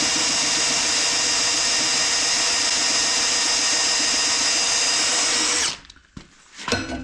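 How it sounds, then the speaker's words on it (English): A power drill whines loudly and steadily while boring into hard steel for a box grader built from scrap, then cuts off abruptly, leaving a few faint clinks and handling noises. "I noticed that whining sound. I think that happens if you try to drill like really hard steel."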